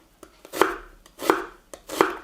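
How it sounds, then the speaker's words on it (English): A knife chops through a fresh onion on a cutting board for a Trinidad lamb curry, landing three crisp, evenly spaced cuts close up with short lighter taps between them. "the onion that I'm cutting fresh"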